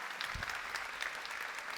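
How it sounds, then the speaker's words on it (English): Audience applause for a government minister at a peace forum event, a brief, fairly faint burst of many hands clapping evenly. "Maybe we can have a round of applause for Minister Brazi"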